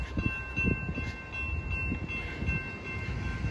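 A freight train rumbles steadily past on Sulphur Avenue, low rolling wheel noise with a sustained horn tone riding over it, fairly close and continuous.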